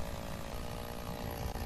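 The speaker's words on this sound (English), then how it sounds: "I'm not quite sure how we put the chainsaw down." A chainsaw runs in the video game Lumberjacks Dynasty, a steady, close, droning engine buzz that holds at constant loudness without pauses or talk.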